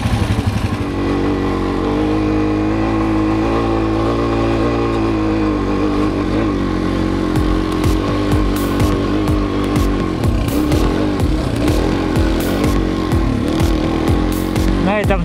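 A yellow Suzuki DR-Z400E dirt bike engine runs loud and close in winter, holding a steady throaty idle before crackling revs and blips in the second half, with some voices underneath.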